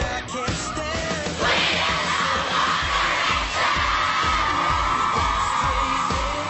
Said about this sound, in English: The girls have been screaming and falling and...